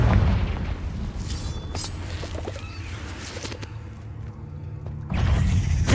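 Confringo fire-spell blasts in the Hogwarts Legacy video game, with a loud booming explosion at the start and another heavy burst near the end, separated by quieter rumbling and crackling effects.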